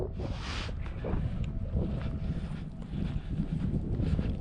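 Steady breezy wind rushes across the microphone outdoors, a continuous broadband roar with gusts and no talk.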